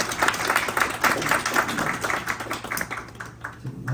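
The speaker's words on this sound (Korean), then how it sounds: "네, 박수 한번 주십시오." Audience applauding a guest speaker at a construction company's briefing for a Daegu apartment remodeling project, a dense patter of clapping that fades toward the end.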